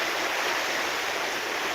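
Floodwater rushing into a house after a night of heavy rain, a steady broadband roar of flowing water that stays loud and unbroken throughout, with no voices.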